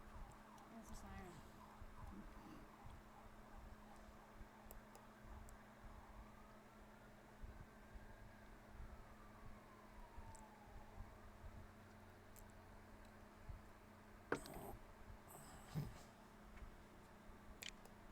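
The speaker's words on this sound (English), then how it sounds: "That's a siren." A faint siren wails outdoors with one slow rising and falling sweep, far off and low in level beneath steady background noise, with a couple of sharp clicks near the end.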